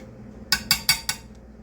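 Spaghetti sauce made from fresh tomatoes, with lemon juice added, is stirred in a pot, giving four quick, close metallic clinks of a spoon against the rim at an even pace.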